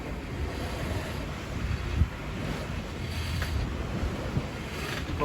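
Wind rushing steadily over a single-handed sailing yacht beating close-hauled at sea on a sunny day, a continuous broad roar with faint water noise and occasional gusty bumps.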